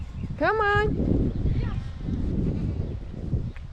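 Goats and sheep being moved out from pasture give one clear, wavering bleat close by, then fainter bleats follow under a steady rumble of shuffling and farmyard noise.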